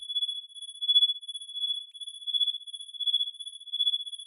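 A synthesized cricket chirp patched in VCV Rack with free modules: a thin, high, steady electronic trill that pulses in soft, uneven waves, alone and without any voices.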